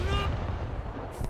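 A naval ship's gun fires in a video game, giving a single heavy blast that decays into a rumbling tail, followed by a second fainter report near the end, all at moderate volume.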